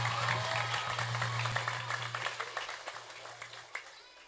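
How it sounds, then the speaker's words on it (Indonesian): An audience at an Islamic sermon gathering applauds the santri and kiai: dense crowd clapping that thins into scattered claps as it fades, over a low steady electrical hum. "Tepuk tangan untuk santri dan kiai."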